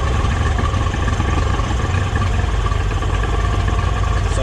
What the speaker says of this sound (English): It's just idling a little bit rough.